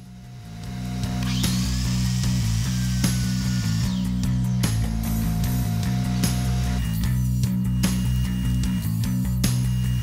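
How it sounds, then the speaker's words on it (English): A power saw starts up and cuts a 45-degree angle through a length of wood, a loud, sustained whine and grind with a low motor hum, running steadily for most of ten seconds. "Just line that up with the edge, the very tip, and make that 45-degree cut."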